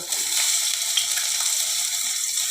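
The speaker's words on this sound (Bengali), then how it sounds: "আমি এখন তেল দিয়ে দেব তেলটা আমার গরম হয়ে গেছে এবারে পেঁয়াজগুলো ছেড়ে দেব" Onions dropped into hot oil in a pan give a continuous, close sizzle with faint crackles throughout.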